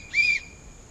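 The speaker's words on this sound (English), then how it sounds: "when I blow this whistle" A single sharp whistle blast, loud and close, lasting about a quarter second before fading into quiet room tone.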